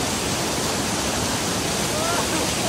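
The waterfall at Bluewater Falls in Baggao, Cagayan roars with a dense, constant rush of falling water, loud and close, filling the whole moment without a break.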